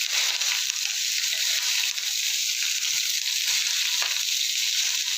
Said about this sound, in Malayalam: നന്നായിട്ടൊന്ന് മിക്സ് ചെയ്ത് യോജിപ്പിക്കുക